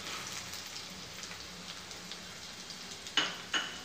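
Finely chopped onion frying in a pan for vegetable soup, a faint, steady, crackling sizzle throughout, with two sharp clicks near the end.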